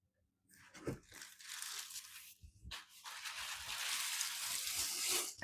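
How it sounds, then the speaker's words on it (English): Crinkling plastic bag and rustling as a used filter is pulled from a Membrane Solutions MSA3 air purifier and bagged, a soft thump early on, then growing sustained crackling close up, no talk. "get a bag ready so you can dispose of the filter into a plastic bag as soon as you remove it"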